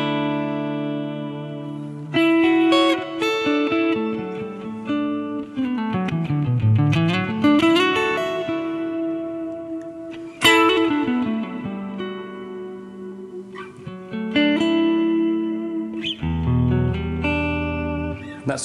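An electric guitar through an acoustic simulator effect on a Line 6 Helix rings out with bright, acoustic-like strummed chords and sustained notes, a few slides and bends between phrases, no talking.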